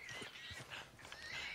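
A horse in Red Dead Redemption 2 whinnies loudly with a few hoof clip-clops, all packed into under two seconds over a busy game soundscape.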